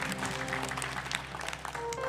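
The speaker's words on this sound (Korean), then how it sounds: "우리에게 크신 복을 허락하신 하나님께 감사와 영광의 박수를 올려드리시겠습니다" A church congregation claps in praise during a Sunday worship service, a dense, even patter of many hands over a steady low hum and sustained keyboard tones, moderately quiet throughout.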